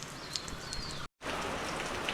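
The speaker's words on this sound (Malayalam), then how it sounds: "മഴ പെയ്തത് ആ വെള്ളം ഇങ്ങനെ വാലി കെട്ടി വീണുകൊണ്ടിരിക്കുന്നുണ്ട്" Steady rain patters down close by, a dense even hiss of drops interrupted by one brief moment of silence midway.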